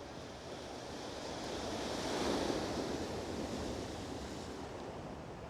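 Sea waves at Kanyakumari beach, where three seas meet, wash in as a continuous broad roar of surf with some wind, swelling slightly in the middle and heard without voices.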